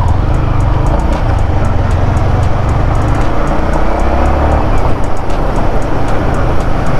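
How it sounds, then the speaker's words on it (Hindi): A new heavy motorcycle without rear ABS pulls away hard from a standstill, its engine a loud, steady low roar that holds throughout with no talk over it. "इस बाइक का जो पिकअप होता है स्टार्टिंग का अल्टीमेट।"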